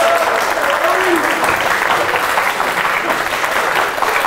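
Audience applause fills a student quiz-show final between university teams, a steady, dense clapping that holds at an even, loud level throughout with no break.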